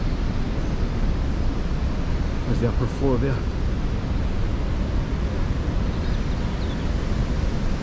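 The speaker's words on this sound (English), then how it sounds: "you can see the, the weir through the wall there, the waterfall." Water pours over a weir at Cramond, Edinburgh, making a steady, loud broadband rush that fills the whole stretch, with a voice briefly speaking over it.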